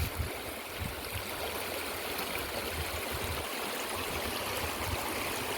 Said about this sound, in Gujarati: અહીંયા તો ભાઈ અનોખું જ પાણી આવે છે હિતેશભાઈ